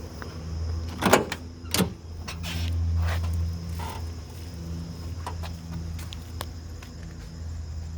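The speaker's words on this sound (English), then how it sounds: "There's your power window switches." Electric power window motors run in a 1971 Camaro Z28 interior, a steady low whirring hum lasting a few seconds, with a couple of sharp clicks or thumps near the start.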